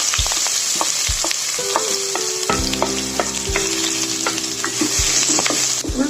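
Onion dropped into hot oil with mustard seeds crackles in a loud, dense sizzle, with sharp pops throughout and a stronger burst of frying partway through, no speech.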